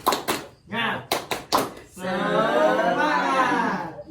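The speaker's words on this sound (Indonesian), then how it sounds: "sebelumnya kita tepuk semangat dulu biar lebih semangat" Tepuk semangat, a rhythmic group clapping chant led in a classroom lesson: a few sharp, evenly spaced claps mixed with short chanted words, followed by a sustained group voice calling out.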